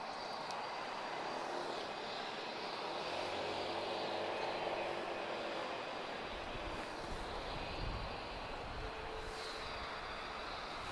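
An airliner landing at Lisbon Airport at night, a distant, fairly faint jet roar rising and settling into a rumble, with no talk over it.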